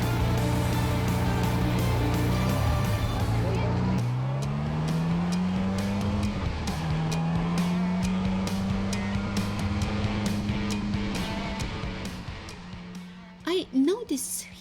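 A vintage 1931 race car pulls away, its engine revving and climbing through the gears with a loud, rough drone. Sharp clicks and rattles sound over it, and the car stays close throughout. Near the end the engine fades and voices briefly break in.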